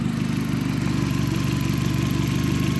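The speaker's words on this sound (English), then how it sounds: "So I know the engine is not gonna move anymore." A VW Jetta engine idles steadily after a dogbone mount replacement, a constant low rumble with a faint whine on top, heard close up and without pause or speech.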